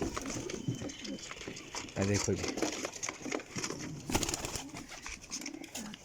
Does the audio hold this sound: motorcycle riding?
no